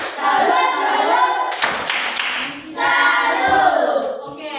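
A group of students in an Indonesian classroom claps a salute clap in quick bursts of hand claps, with a brief pause between rounds and some children's voices mixed in.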